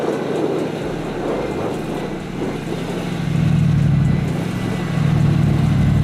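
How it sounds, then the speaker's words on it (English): A gasoline V8 Hummer H2 crawling off-road in low range with its rear locker: a loud, steady low engine drone that rises as the revs climb partway through, close by, with no talking. "The Hummer does not even notice the first diagonal due to the size of the wheels and suspension articulation and reaches the main obstacle"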